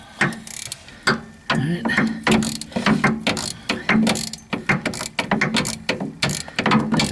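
Long Snap-on ratchet clicking in quick irregular bursts of pawl ticks while working on a rear wheel bearing of a Matrix Vibe AWD, close and fairly loud, with a brief spoken word.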